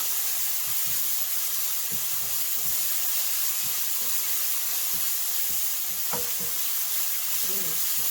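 Padek, fermented fish sauce, sizzling in a pan makes a steady close hiss throughout, with soft stirring knocks and scrapes underneath and a brief clink near the end.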